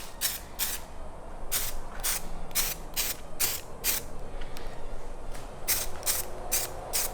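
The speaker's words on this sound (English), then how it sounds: "We're gonna spray it and let it sit for 5 minutes." Bulldog adhesion promoter sprayed from an aerosol can onto a carbon fiber Mustang mirror cap: a run of short, sharp hissing bursts in irregular rhythm, close and loud, with no talk.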